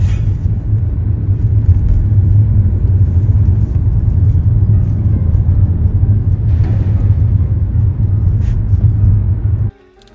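A car driving on a long road trip, with a check engine light on, gives a steady, loud low engine and road rumble throughout, cutting off abruptly near the end.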